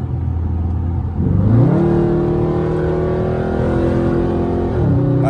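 A 2012 Dodge Charger SRT8 accelerates loudly from inside the cabin, its engine roar climbing in pitch through a gear, holding a steady drone, then rising again near the end.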